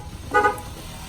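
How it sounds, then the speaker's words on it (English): A custom car horn on a heavily modified car with a big audio install gives one short, fairly muted honk that fades quickly. "And it also honks."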